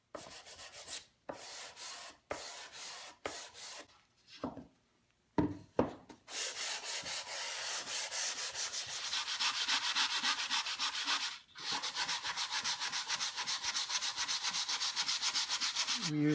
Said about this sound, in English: We used probably about a 120 grit sandpaper to remove the excess spackle